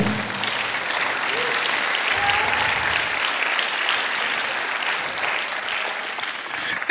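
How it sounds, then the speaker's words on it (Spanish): A church congregation gives loud applause to the Lord during a sermon, a steady, dense wash of many hands clapping that holds evenly for the whole stretch, with no voices above it. "Denle un aplauso fuerte al Señor."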